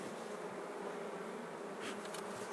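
Honeybees buzz around an opened hive, a dense continuous drone that stays steady and close, with no voices.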